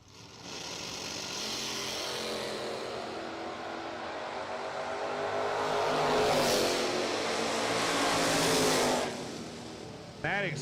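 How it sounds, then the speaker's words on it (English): A 1977 Camaro and a 1973 Chevy Nova launch in a drag race at a radial racing event, engines roaring loud and rising as the cars pass close, then cutting off near the end, with an announcer talking over the noise. "Jay Johnson, left lane, 77 Camaro, right lane, Junior Maddox, 73 Chevy Nova"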